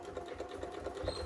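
A sewing machine stitches a hair turban towel with a quiet, even mechanical whir and soft rhythmic ticking of the needle, close up and without voices, over about a second.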